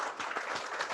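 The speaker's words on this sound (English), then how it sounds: "so round of applause for all of them." An audience at a cancer plan launch event gives a round of applause, with steady, dense clapping throughout.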